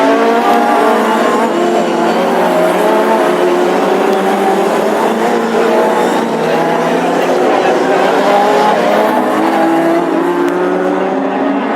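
Classic hot rod race cars roar around the Birmingham oval track in a heat race, with engines droning and revving continuously and loudly throughout, and a commentator talking over the racing.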